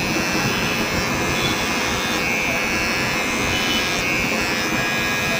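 An electric hair clipper set to zero runs in a salon during a low-fade haircut, giving a steady close buzzing drone that holds without a break and with no talk.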